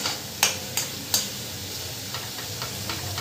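Spice masala fries in hot oil in a pan, a steady sizzle broken by a few sharp scraping knocks of the spoon as it is stirred, close and without any talking.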